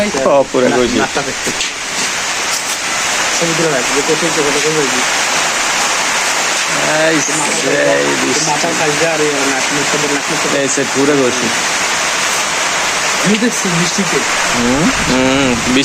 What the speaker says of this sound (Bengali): সত্যি বৃষ্টি নেমে গেছে।